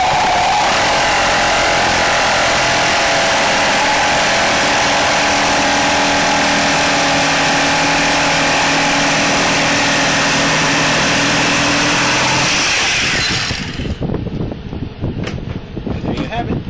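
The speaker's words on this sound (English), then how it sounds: "My other saw broke, so I'm using my jigsaw for this job, and it works quite well." A jigsaw cuts wood for a homemade bow in a loud, steady buzz that holds for about thirteen seconds and then cuts off, leaving scattered clatter and handling noise.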